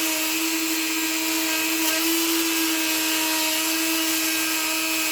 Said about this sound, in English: This is the grinding bit. Definitely made for other purposes than to grind down pads.